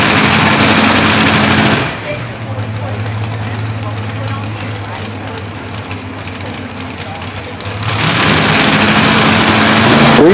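A modified pulling tractor roars at a tractor pull at the Page Valley Fair. The loud, sustained engine note eases off briefly and then surges back to full power near the end.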